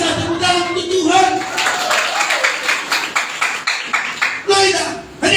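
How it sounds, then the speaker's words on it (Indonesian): A church congregation at an Easter resurrection service claps hands in quick rhythmic bursts, with voices talking over and between the claps. "Tepuk tangan untuk Tuhan."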